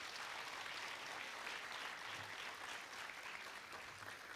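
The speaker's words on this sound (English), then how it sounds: "So please give all of yourselves a big round of applause." Steady round of applause from an audience at a regional community event, dense clapping filling the room at an even level throughout with no talk over it.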